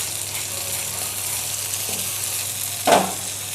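Banana paste frying in ghee for banana halwa, with a steady broadband sizzle throughout and one louder scrape or stir near the end.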